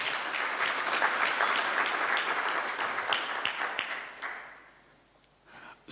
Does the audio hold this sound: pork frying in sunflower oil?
no